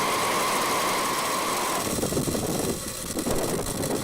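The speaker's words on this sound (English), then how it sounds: "Ignition. Liftoff of the Falcon 9." SpaceX Falcon 9 rocket engines rumble steadily just after liftoff on a Starlink launch, a loud, dense, continuous roar with no voices.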